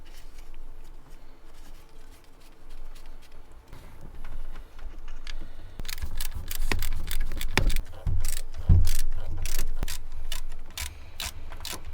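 A ratchet tightens three bolts on the power steering pump bracket of a Nissan VQ40 engine, giving quick, close clicking strokes in short bursts with metallic taps and handling noise between them.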